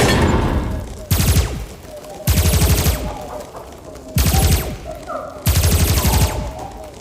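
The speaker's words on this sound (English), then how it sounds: "Cosmo, keep firing!" Four loud bursts of rapid sci-fi gunfire, aimed at alien creatures aboard a ship, come in evenly spaced volleys, each lasting under a second, with quieter ambient gaps between them.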